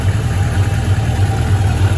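A 1993 Suzuki GSX600F motorcycle engine idles steadily after an exhaust change, giving a low, even, fairly subdued rumble with no speech.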